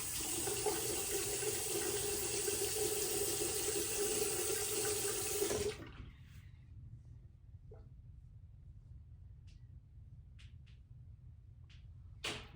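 Water runs steadily from a tap while a razor is rinsed for about six seconds, then shuts off, leaving a quiet room with a few small clicks and drips.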